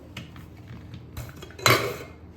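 A pressure cooker of boiled dal is lifted off a gas stove in a home kitchen, giving a few metal clanks and a louder clattering scrape of pot on burner grate near the end, close and without talk.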